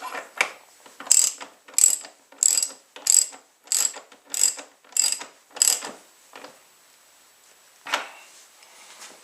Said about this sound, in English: what do we need to tighten the top bolts? This 27mm socket.